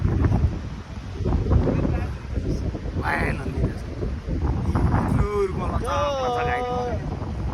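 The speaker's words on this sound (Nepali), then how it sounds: "यत्रो हावा छ कि त्यो रुखहरू कस्तो हल्ल्या" Strong outdoor wind makes trees sway, a steady, loud rushing bluster that runs throughout, with brief voices and whistly tones over it.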